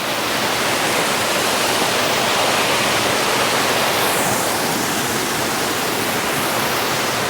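The Himidurawa mini waterfall pours steadily close by, a dense, loud, continuous rush of falling water with no pauses.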